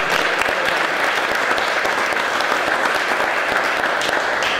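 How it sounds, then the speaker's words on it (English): Steady, dense applause from a crowd at a ribbon cutting for a HealthCare Express clinic in Texarkana, Arkansas, with many hands clapping continuously at close range throughout. "Can we give them a little applause?"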